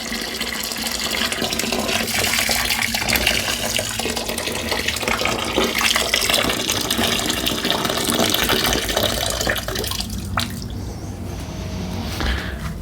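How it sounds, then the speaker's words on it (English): Hot water pours in a continuous stream into a home brewing vessel holding thick malt for an amber ale. The close, gushing fill runs for about ten seconds and then stops, leaving quiet drips. "Pour the rest of the hot water in."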